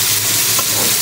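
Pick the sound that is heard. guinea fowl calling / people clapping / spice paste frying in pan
spice paste frying in pan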